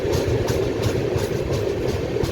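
A train pulling into Manikpur railway station makes a loud, close, continuous low rumble with a rhythmic pulsing clatter of wheels over rail joints, with no voices.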